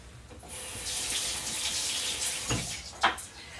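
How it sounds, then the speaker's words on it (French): A kitchen tap runs steadily into a sink while a bell pepper is rinsed under it. The splashing is close and moderately loud, with brief clunks and a sharper knock near the end. "mon poivron que je vais laver"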